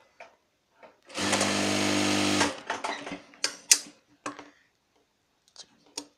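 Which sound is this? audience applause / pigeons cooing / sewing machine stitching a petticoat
sewing machine stitching a petticoat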